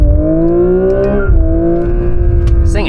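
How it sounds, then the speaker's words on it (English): A Genesis GV60 Magma electric car launches from a race start, its synthesized engine note holding a steady droning hum that dips briefly then carries on as the car pulls away, loud and close throughout. "For a race start, floor the brake, floor the accelerator, and off we go."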